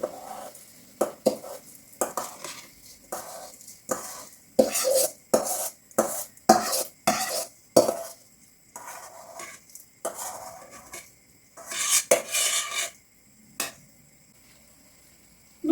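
Washed millet tipped into cabbage stewing in a pot, then stirred: a run of clinks, scrapes and knocks of a spoon against the pot, with short pauses between and no talking.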